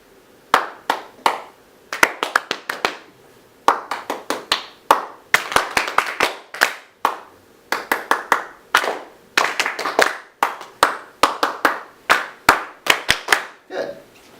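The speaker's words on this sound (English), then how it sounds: "I want you guys to clap with me" A class claps a rhythm together, sharp unison hand claps in repeated short patterns with brief pauses between phrases, close and loud throughout.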